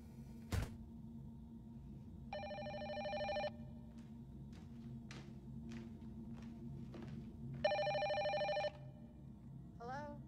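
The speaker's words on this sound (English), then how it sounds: "My phone rings." A telephone in an apartment rings in two distinct bursts of bright, trilling bell tones separated by a pause, moderately loud over a low background hum with a few faint knocks.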